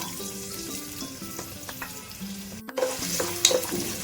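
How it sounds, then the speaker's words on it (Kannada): Cinnamon, cloves, green chilli, curry leaves and onion frying in a pan for mutton leg soup: steady sizzling with scraping stirs, a momentary break, then a louder, busier sizzle as more goes in. "ಇವಾಗ ಚಕ್ಕೆ ಲವಂಗ ಹಾಕ್ಕೊತಾ ಇದ್ದೀನಿ, ಒಂದು ಹಸಿಮೆಣಸಿನ್ಕಾಯಿ, ಸ್ವಲ್ಪ ಕರ್ಬೇವಿನ ಸೊಪ್ಪು, ಒಂದು ಹಚ್ಕೊಂಡಿರೋಂಥ ಒಂದು ಈರುಳ್ಳಿ"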